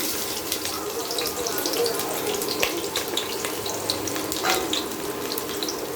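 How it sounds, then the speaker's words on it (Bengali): Chopped onion hits hot mustard oil in a pan for a spicy goat-head bhuna, giving a steady, fairly loud broadband sizzle with faint clinks, no voice over it. "এবার আমি দিয়ে দেব 1 কাপ পরিমাণ পেঁয়াজ কুচি।"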